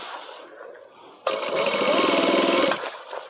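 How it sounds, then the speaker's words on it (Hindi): A domestic sewing machine runs a steady top-stitching seam along a band collar on a suit, a loud, even mechanical whirr lasting about one and a half seconds after a quieter start, then stopping abruptly. "बाकी अभी ये हम टॉप वाली सिलाई लगा रहे हैं"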